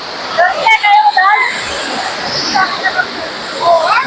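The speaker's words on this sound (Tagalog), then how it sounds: "Look at that falls." A waterfall at Cat Cat village in Sapa, Vietnam, gives a loud, broad rushing wash heard up close, with people talking and exclaiming over it.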